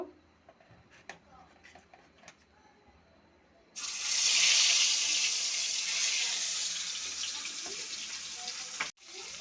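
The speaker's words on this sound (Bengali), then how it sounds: "এখন মাছগুলো আমি একটু ভেজে নেব।" Shing fish marinated in turmeric, salt and chili hit hot oil in a pan, setting off a loud, steady sizzle that starts abruptly after a few quiet seconds of faint clinks and continues close up.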